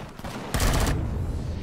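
A gun in Empyrion Galactic Survival firing a short burst of rapid shots, a sharp loud cluster after a quieter lead-in, then fading ambience; no talk.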